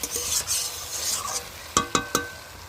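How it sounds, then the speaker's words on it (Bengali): Spices and vegetables sauté in hot oil in a pan, a steady close sizzle under a few sharp clinks of a utensil stirring near the end, with no talking. "এই কষিয়ে নেবো, পুরো সেদ্ধ হয়ে যাবে কষানোতে।"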